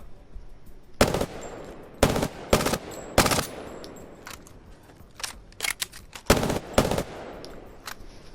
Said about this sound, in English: I like Prowler's sound.